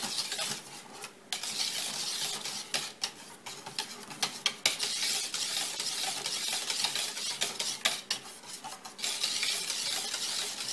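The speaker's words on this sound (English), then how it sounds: "you mix it in your big pot, making sure everything has been thoroughly mixed together" A homemade eggnog mixture stirred with a mixer in a big pot, a quiet, continuous whirring swish broken by small clinks and taps against the pot.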